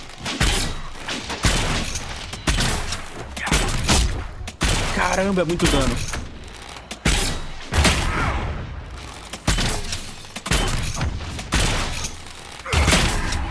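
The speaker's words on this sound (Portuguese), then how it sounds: "Vamos atirar ali no cara ali." Gunfire in Dragon Age: Inquisition: repeated loud blasts and thuds in irregular bursts throughout combat, with someone talking over the action.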